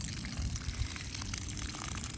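Water gushes steadily from a garden hose used for watering newly planted crape myrtle trees, with a continuous close splashing flow and low bubbling, and no one speaking.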